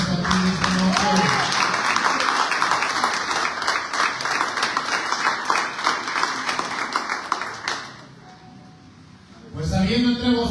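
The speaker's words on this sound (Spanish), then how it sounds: "Den un aplauso al Señor que está aquí en este nombre." A church congregation breaks into loud, sustained applause that fills the room for several seconds, then thins and fades out. A voice starts speaking again near the end.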